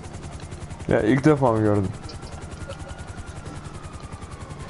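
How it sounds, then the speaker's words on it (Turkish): A helicopter in the Rainbow Six Siege video game gives a steady, pulsing rotor thrum throughout, with someone talking briefly over it. "Oyundaki en canlı helikopter."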